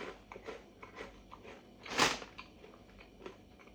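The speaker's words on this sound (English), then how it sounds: "So you've got the nice crunchy interior, as you can probably hear me eating." Someone chews crunchy raspberry Maltesers up close, a run of small crackling bites with one louder crunch in the middle, quiet and intimate with no talking.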